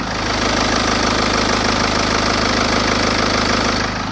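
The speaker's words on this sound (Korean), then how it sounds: "규칙적인 디젤의 엔진음까지 들어보았습니다" A diesel car engine, an improved engine in a facelifted model, idles steadily with a regular knocking clatter, close and constant, with no voices.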